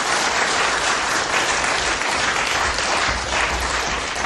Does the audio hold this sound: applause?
yes